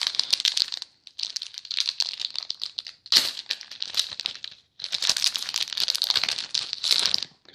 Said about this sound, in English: So let's just do a quick rip right here like we've been doing.